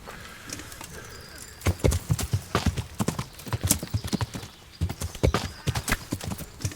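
Horse in the Kingdom Come Deliverance video game trotting with rhythmic clip-clop hoofbeats, coming in bursts with brief pauses, with ambient birdsong in the background.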